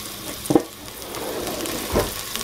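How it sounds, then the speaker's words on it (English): Mashed roasted garlic being stirred and mixed with a spatula in a crockpot ravioli lasagna dish, giving soft wet squelching and scraping with two louder thumps, close and alone without talk. "Now I'm going to start mixing that up."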